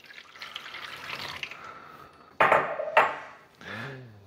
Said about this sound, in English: First, you're going to want to fill the reservoir with water.